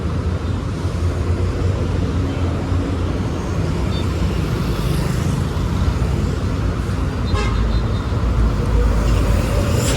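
Dense, steady road traffic roar on a congested expressway in the Philippines, heard from a moving motorcycle, a loud continuous rumble of engines and wind with no pauses throughout.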